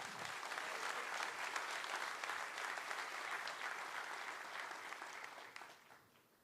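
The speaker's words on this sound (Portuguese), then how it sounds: "Dê um aplauso ao Senhor Jesus." A church congregation applauds during a sermon, a continuous bed of many hands clapping at moderate, somewhat distant level, slowly thinning and fading out toward the end.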